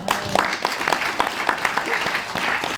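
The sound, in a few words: audience applause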